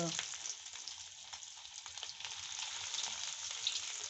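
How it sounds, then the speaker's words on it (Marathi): Potato patties for ragda pattice fry in oil over a low flame until golden, giving a gentle, continuous sizzle with faint bubbling. It is close, quiet and steady, with no voices. "आणि ह्याला गोल्डन रंग येईपर्यंत फ्राय करून घ्यायचा"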